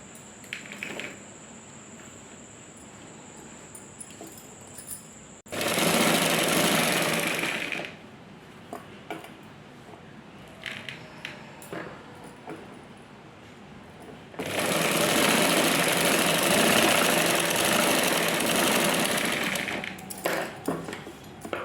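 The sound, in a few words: sewing machine stitching blouse fold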